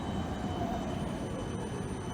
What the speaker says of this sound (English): So far till now, trams are operating.